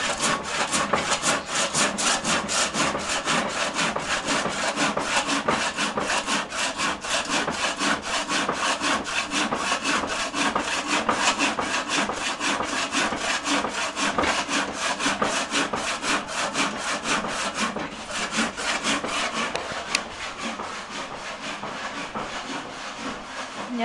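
A hand saw rasps rapidly back and forth through wood in a steady, continuous rhythm, close and loud throughout.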